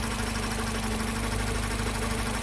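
A Mercedes CLK 230 Kompressor W208 from 2002 idles with a noisy pulley wheel, giving a constant close mechanical hum with a steady whine and faint rattling throughout.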